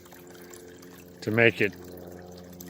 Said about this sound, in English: here's the spring that I got to fill up the extra 2 liters of water